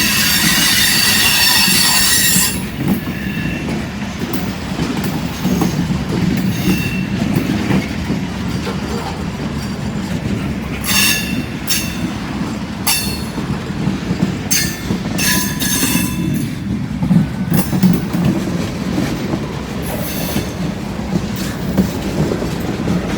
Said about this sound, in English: That's where this train's headed.